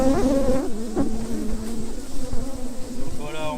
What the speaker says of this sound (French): Donc ce sont des abeilles qui sont là depuis 4 jours seulement.